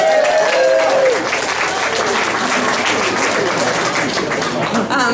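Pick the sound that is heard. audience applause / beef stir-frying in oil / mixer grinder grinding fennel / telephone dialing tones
audience applause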